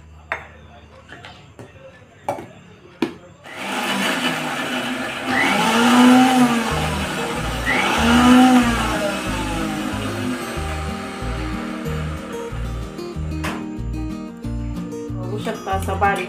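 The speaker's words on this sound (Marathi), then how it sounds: "सगळ्यात पहिला आपल्याला मिक्सरच्या भांड्यात लसूण टाकून तो बारीक करून घ्यायचा आहे" A kitchen mixer grinder chops garlic in its jar for a spicy niger seed chutney, whirring loud and steady for most of the clip after a few quiet moments of light clinks and handling.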